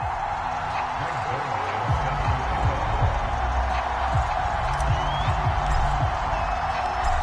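A Buffalo football stadium crowd roars steadily as the Bills run out of the tunnel before a game against the New York Jets, a dense, continuous wash of distant cheering filling the space.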